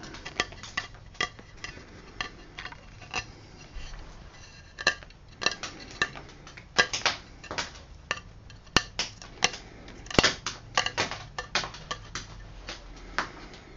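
A small knife trims the edge of a freshly cast ceramic mold, giving a run of sharp, close scraping clicks at an irregular rhythm, with no talk.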